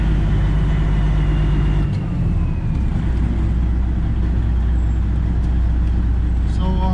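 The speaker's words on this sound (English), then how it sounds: "about to drive the truck back to the yard and get ready for tomorrow" A Freightliner Classic XL truck driving, with a loud, continuous low engine drone and road rumble heard from close range, shifting briefly in tone partway through, no talk.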